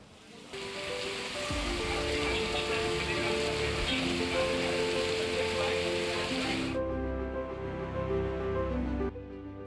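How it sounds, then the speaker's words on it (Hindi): Heavy rain falling in Madhya Pradesh, a dense, loud, continuous hiss and patter that stays steady throughout, with faint tonal background sounds underneath and a drop in brightness near the end. "मध्य प्रदेश में आज जोरदार बारिश हुई है।"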